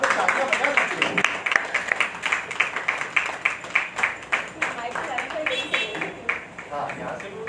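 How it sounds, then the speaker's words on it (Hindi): Audience clapping at an annual literary stage event, uneven rhythmic claps of moderate loudness with voices talking over them. "आप लोग तालियां बजा सकते हैं"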